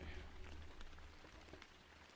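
Faint, steady rain patters continuously as a soft background wash, quiet and distant, with no distinct drops standing out.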